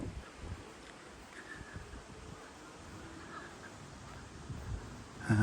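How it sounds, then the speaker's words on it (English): Wind blowing across the microphone outdoors at Sheffield Botanical Gardens, a constant rough rumbling with gusty swells and faint rustling, ending in a louder buffeting gust. "As you can probably hear, it's still very windy."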